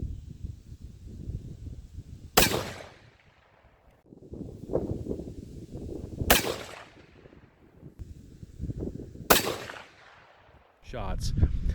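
Three loud rifle shots ring out a few seconds apart from a Winchester XPR Sporter in 270 WSM with a wood stock, 24-inch barrel and Meopta scope, each crack followed by a rolling echo, with outdoor rumble between shots.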